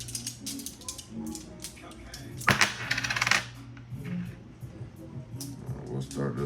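Word stones tumble and clatter, with a loud cluster of clicking impacts midway as they spill onto a lap, surrounded by lighter scattered taps and some nearby voice.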